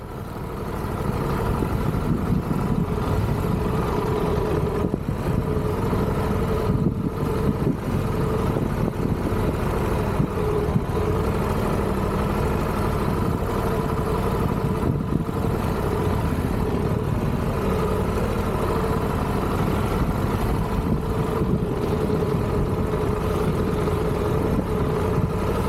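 A steady, low motorcycle engine drone runs throughout without letup, ticking over at low speed on a sand riding course, with no voices.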